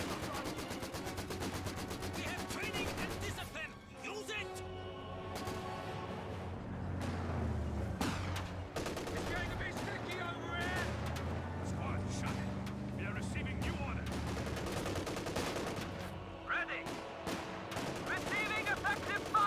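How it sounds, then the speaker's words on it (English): Vickers machine gun and rifle fire crackle in a Company of Heroes 2 battle as a mix of bursts and scattered shots, running steadily beneath near-constant commentary. "Got now the Vickers suppressing down the Grenadiers."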